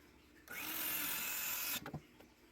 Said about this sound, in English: This DeWalt battery operated saw does pretty good work with that.